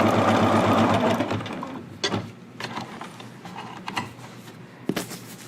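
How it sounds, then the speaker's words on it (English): Sewing machine stitching down the side of a jogger waistband, a fast steady mechanical whir close by that stops after about a second and a half, followed by soft fabric handling and a few clicks. "And just sew down the other side."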